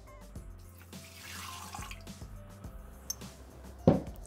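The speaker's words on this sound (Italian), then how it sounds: "Iniziamo la ricetta mettendo all'interno del boccale l'acqua" Water pours into a Thermomix TM6 mixing bowl, a steady splashing trickle with soft clinks, ending in a louder knock near the close.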